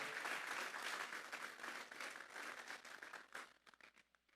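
A church congregation breaks into sustained applause during a service, the clapping dense and steady at first before thinning out and fading over a few seconds.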